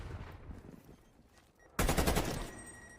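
Sudden burst of rapid automatic gunfire from a Call of Duty League Search and Destroy match, loud and close after a quiet lull, with a sustained rattling stream of shots continuing to the end.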